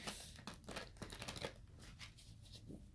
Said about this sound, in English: Just want to get a really good shuffle in.